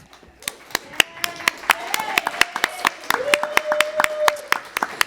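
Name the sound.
audience applause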